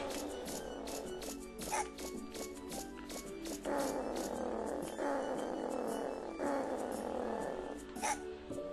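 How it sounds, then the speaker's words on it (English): A dog in the video game Megaman Legends barks repeatedly, a series of short yaps scattered across several seconds over continuous game background sound. "Dog, shut up."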